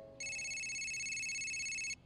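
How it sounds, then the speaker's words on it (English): A cartoon telephone rings in an office, a bright electronic trill that starts abruptly, holds steady and close for almost two seconds, then cuts off. "Someone stop the ringing!"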